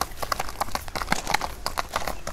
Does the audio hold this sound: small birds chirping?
no